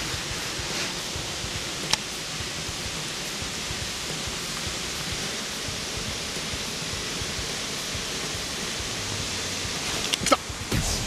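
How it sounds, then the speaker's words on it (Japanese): Waterfall pouring at a river fishing spot, a steady broadband rush that stays even and unbroken throughout, with a couple of brief knocks near the start and end. "滝が流れてきてますか"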